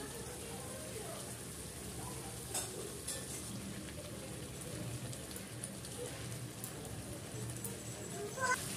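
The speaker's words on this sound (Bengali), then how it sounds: "চিকেন লেগ রেসিপি আমি কষিয়ে নেবো আরো" Chicken leg masala stir-fried in a pan for a spicy chicken curry, a steady soft sizzle with occasional scrapes throughout, fairly quiet and continuous.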